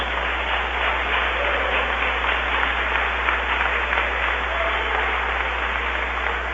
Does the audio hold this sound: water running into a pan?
no